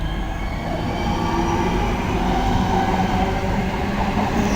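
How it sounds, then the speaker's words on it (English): A local train runs through Birmingham International station, a steady loud rumble of wheels and carriages rolling past close by, continuous with no voices. "Train passing through."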